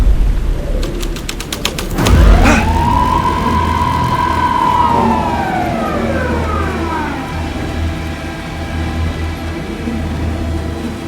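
A police car siren in the Alan Wake 2 video game wails in one long rising-and-falling sweep, after a heavy thud, and then fades under a low rumbling backdrop.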